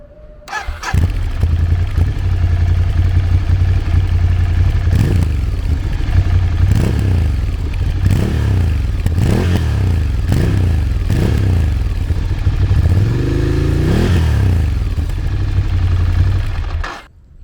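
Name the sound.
Triumph Scrambler Nightshift motorcycle stock Euro 5 exhaust rumble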